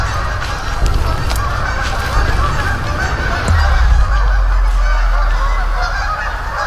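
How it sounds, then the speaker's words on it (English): Geese honk loudly and repeatedly in an agitated chorus, calls overlapping close by with no talking. "And these geese are just freaking out."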